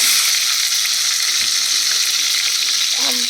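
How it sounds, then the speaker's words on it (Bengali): Drumsticks (sajne danta) sizzle in hot oil after a nigella seed tempering, a dense, steady frying hiss filling the whole moment with a brief stir near the end, no talk. "কালো জিরে ফোড়ন দিলাম, এর মধ্যে সজনে ডাঁটা দিয়ে দিলাম।"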